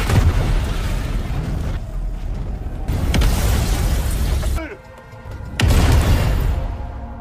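A loud, roaring gas explosion in the film The Great Flood (2025), with crackling debris and rumbling, followed by a brief lull and then another heavy burst of noise.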